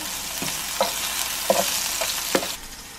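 Chopped white parts of onion fry in oil with salt, giving a continuous soft sizzle. A utensil stirs them in a handful of distinct knocks and scrapes against the pan.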